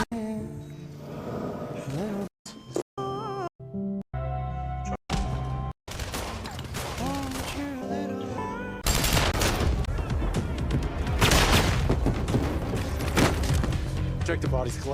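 Bursts of video-game gunfire in a first-person shooter, with rapid shots and sharp cracks over dense music and effects, loud and close, continuing in a sustained barrage after the opening choppy section.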